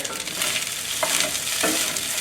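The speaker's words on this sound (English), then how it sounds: "I'm going to make like a scrambled egg here" Egg frying in a pan while being stirred into scrambled egg for fried rice, a continuous bright sizzle with a few soft scraping stirs, close and without talk.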